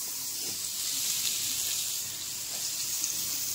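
Chopped onion hitting hot oil in a home kitchen pan, a steady bright hiss and sizzle running continuously at close range with no voices.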